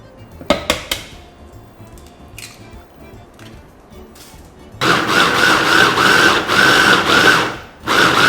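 A food processor blends eggs. A few sharp knocks and clatters come first, then the motor starts with a loud, steady whir that runs for about three seconds and winds down near the end.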